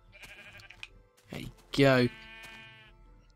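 Sheep in Minecraft on Xbox 360 bleating near a player handing out red wool dye, one loud wavering bleat amid a man's excited chatter.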